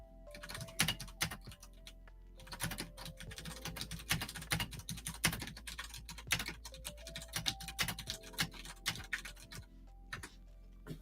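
Rapid clattering keystrokes on a computer keyboard while a chat message is typed, in uneven bursts with brief pauses, close and fairly quiet, with no talking.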